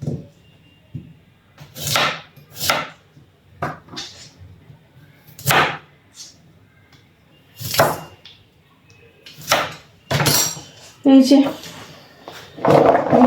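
Knife chopping radish, a series of crisp, irregularly spaced cuts against a board, loud and close, with a quiet pause between strokes and brief clatter near the end.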